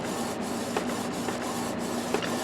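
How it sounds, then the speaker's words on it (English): Canon TS9520 inkjet printer fitted with a continuous ink system printing, a steady mechanical whir with soft rhythmic clicks as the print head moves back and forth, close and moderately quiet. "You can almost see it printing back and forth."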